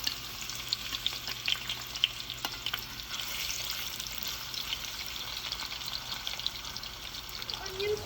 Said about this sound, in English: Heat the oil and add onions and wait until they're golden brown.